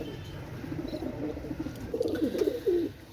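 Pakistani pigeons coo softly and repeatedly up close, a pair of Oman Teddy Master birds among them, their low rolling calls swelling toward the end with no talk over them.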